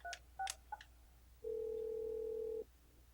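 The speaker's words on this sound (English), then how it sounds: "So now if I dial this phone from off screen" An Alcatel-Lucent ALE-400 desk phone on an OXE system plays a quick run of three short keypad dial tones, followed by one longer steady tone lasting about a second, all at low volume.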